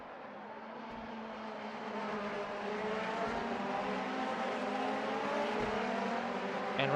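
Race cars at the Fuji circuit in a racing video game: a sustained high engine whine that builds steadily in loudness as the cars speed around the track, with a few low thumps and no voices.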